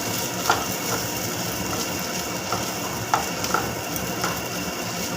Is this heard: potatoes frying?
yes